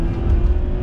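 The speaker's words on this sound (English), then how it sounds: "Unleashing the V8." A Jaguar S-Type V8 engine revs hard during an overtake in a brief, loud burst of deep engine roar heard from inside the car.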